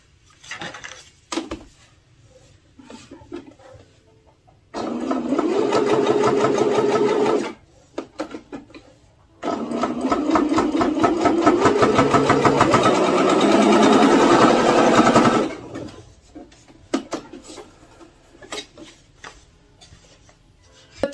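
PFAFF E-Element C1105 sewing machine stitching through four folded layers of thick fabric, two sustained runs of steady rapid mechanical whirring, the first about three seconds and the second about six, separated by quiet handling noises.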